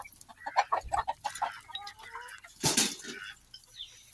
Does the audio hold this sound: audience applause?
no